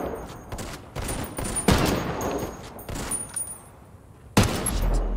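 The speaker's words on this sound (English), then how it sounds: "Shit, I'm pinned! Taking fire!" Video game shooter gunfire rattles out in several rapid bursts and volleys, with sharper, louder blasts near the middle and end and brief lulls between.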